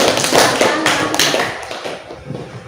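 A classroom of students applauds a group, a dense, loud burst of clapping that gradually fades out over a few seconds.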